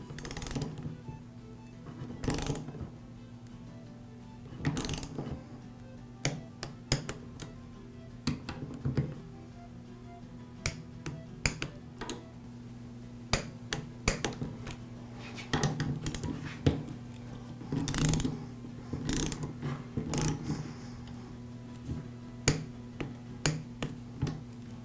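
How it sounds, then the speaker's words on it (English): A torque wrench tightens air compressor head bolts in a crossing pattern, giving sharp ratcheting clicks in scattered bursts over a low steady hum, with no voices. "I'll torque the head bolts in a crossing pattern."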